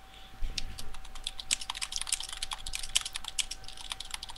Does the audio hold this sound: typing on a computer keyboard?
yes